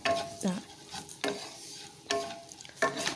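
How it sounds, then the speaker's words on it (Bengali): A spoon scrapes through vermicelli softening in thickened milk in a hot pan, with four distinct stirring strokes heard close by over a light sizzle. "এবার এটাকে দেখো নেড়ে চেড়ে আস্তে আস্তে এটাকে একটু হালকা নরম করে নেবো"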